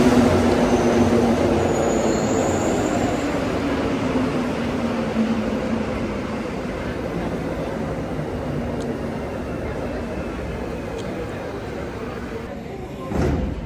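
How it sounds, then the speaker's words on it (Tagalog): A train rumbles into a station in cold Canadian weather and slows, wheels grinding and faintly squealing along the rails, a long steady roar that gradually eases. "Dito na yung tren."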